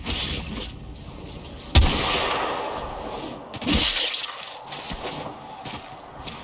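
Explosion in the video game Warframe: a sharp, loud blast bursts out, then a second rumbling burst follows with crumbling, debris-like noise trailing off under a steady game ambience.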